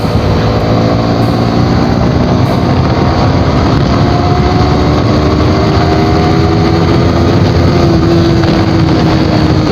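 A Yamaha R15 motorcycle engine pulls up through the revs in third gear, a loud steady drone with rising harmonic tones and heavy wind rush throughout, with no talking.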